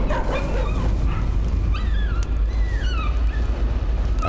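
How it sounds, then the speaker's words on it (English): A zombie dog in hell barks and whimpers in the horror video game Layers of Fear, with high yelping cries rising over a dense, loud rumbling ambience. "A zombie dog in hell."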